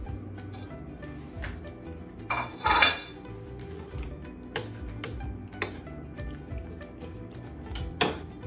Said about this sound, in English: Mix it nicely.